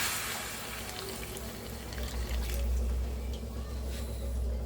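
Water is poured into a pan of spiced chicken curry, a soft continuous splashing and gurgling of liquid over a low rumble, close and steady throughout, with no one talking.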